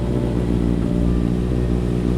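A Honda CBR650R motorcycle engine idles steadily and loudly up close, a constant droning hum with no change in revs throughout.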